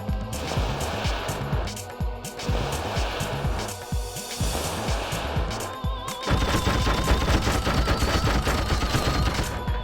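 West Cobra gunfire from the video game Carrier rattles out in rapid, sustained bursts, with dense repeated shots under a constant mechanical rumble that grows heavier and more continuous toward the end.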